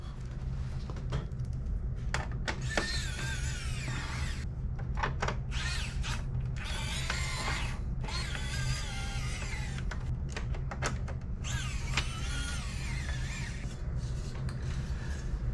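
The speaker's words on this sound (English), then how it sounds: "Install these Phillips screws." Phillips screws driven into a metal plate inside a fat PS3 console (CECHH01) during repair, giving intermittent close scraping, clicking and whirring bursts over a steady low hum, with no talk.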